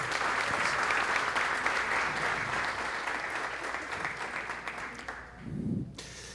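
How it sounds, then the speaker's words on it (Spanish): An audience applauds loudly and steadily for several seconds at a talk on learning spaces, the clapping thinning out near the end as a voice briefly starts. "el señor Agustín Aguirre, a quien recibimos con un fuerte aplauso en el día de hoy."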